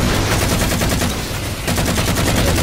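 Turret fire in the Halo video game, a loud, rapid, continuous machine-gun stream with a brief dip near the middle before resuming at full intensity.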